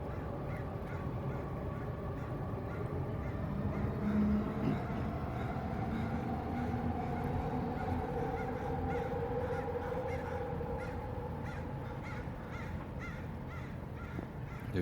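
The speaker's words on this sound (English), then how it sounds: "I get the full experience. Trains, crows, etc." Crows cawing with a train rumbling nearby beside a palace courtyard, steady low background with scattered calls, moderately distant and faint, no talking.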